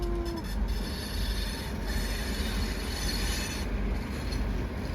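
A long freight train loaded with coal rolls through a curve, its wheels grinding with a dense rumbling roar and faint high squeals drifting over it, steady and moderately distant, no voices.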